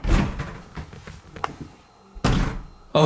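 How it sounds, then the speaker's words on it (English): A swinging door that opens both ways bounces back, producing a series of dull thunks and knocks, with two heavier bangs near the end, inside a resort building. "it's one of those doors that like goes both ways, so it jumped back at me"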